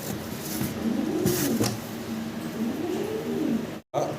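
A pair of racer pigeons coo nearby in soft, rolling, repeated phrases over a low steady background hum, with one brief dropout near the end.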